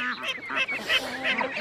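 Small ducks at a poultry breeding farm passing close by, giving a rapid run of honking, nasal calls that overlap one another.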